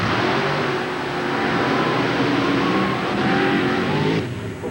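Mud racing trucks rev hard at the start line of an NMRO mud race in Lima, Ohio, a loud, sustained engine roar with throttle blips swelling and easing, heard up close with no voices over it.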